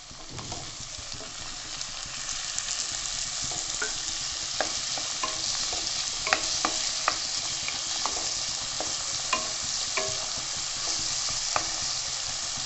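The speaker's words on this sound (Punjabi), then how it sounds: "ਜੀ ਹੁਣ ਪਾਵਾਂਗੇ ਆਪਾਂ ਟਮਾਟਰ ਤੇ ਸ਼ਿਮਲਾ ਮਿਰਚ" Tomatoes and capsicum for pav bhaji sizzle steadily in a pan while a spoon stirs with scattered scraping clicks, loud and close without any talk.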